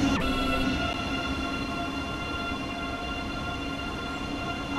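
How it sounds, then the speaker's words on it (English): A high-speed bullet train in Train Sim World 2 rumbles steadily along with a constant tonal whine, running alone at moderate loudness without pause. "I am a super fast bullet train, high speed train."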